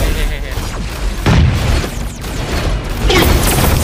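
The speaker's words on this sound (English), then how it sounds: "Don't ask me why I'm shooting at nothing." Gunfire from mech weapons in the video game Super Mecha Champions rumbles as loud, dense bursts and booms, continuous and close with heavy low-end impacts.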